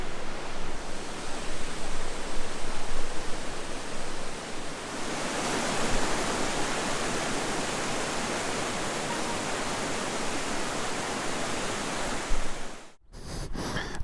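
Crystal Falls, a waterfall in Ontario, roars as a steady, dense rush of falling water, loud and close throughout with no voices, briefly dipping near the end.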